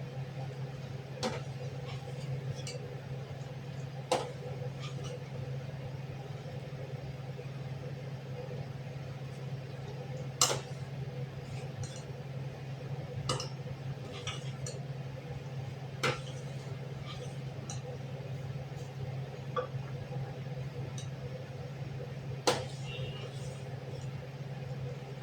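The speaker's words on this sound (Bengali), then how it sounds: "এরপর আমি এটা নাড়ছি।" Rice kheer (payesh) being stirred in a pot, with sharp clinks of the utensil against the metal every few seconds over a steady low hum.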